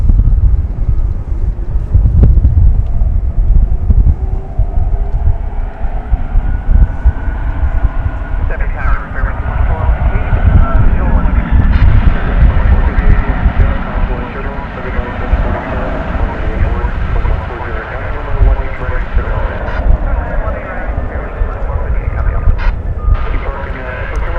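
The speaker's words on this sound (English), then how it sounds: "I believe the clearance has been given for takeoff." An airplane takes off at DFW Airport with a loud, steady broadband roar that holds for the whole stretch, buffeted by wind noise on the microphone.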